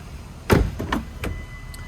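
The rear door of a 2007 Ford Escape XLT makes a solid thump on closing, then a few lighter clicks and knocks follow close by while the engine idles quietly underneath.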